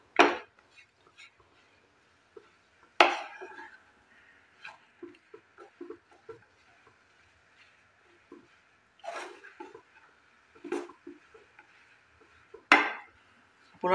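Chickpea dal sweet mixture being stirred in a pan over a low flame, with scattered scraping and clinking of a spoon against the pan and a few louder knocks, quiet between strokes.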